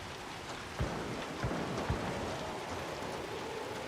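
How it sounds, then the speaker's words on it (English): Heavy rain in a video game, a dense steady patter and hiss with a few low thumps, continuous and fairly close, with no voices. "It is heavy rain."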